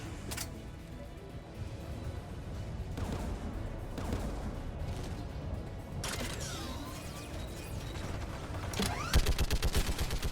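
Rapid gunfire and mechanical clatter from an anti-aircraft gun in Mass Effect 3, with scattered shots building to a loud, fast burst of repeated blasts near the end over a dense battle din.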